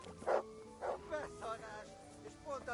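A dog in the video game Kingdom Come Deliverance barks in a run of about six close, loud woofs, evenly spaced over a few seconds, with some speech-like sound mixed in.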